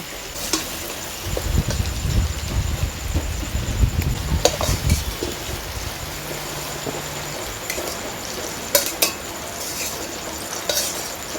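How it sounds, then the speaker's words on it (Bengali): Pumpkin pieces fry in a pan, a steady close sizzle broken by a spatula stirring and scraping against the metal, with occasional clinks. "কুমড়োটার কালার চেঞ্জ হয়ে গেছে, দেখো কুমড়োটা ভাজা হয়ে গেছে।"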